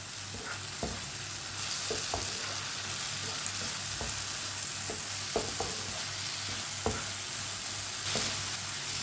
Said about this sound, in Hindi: 2 मिनट हो चुके हैं भिंडी को पकते हुए